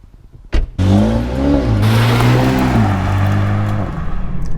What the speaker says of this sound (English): why don't we just see how this car drives?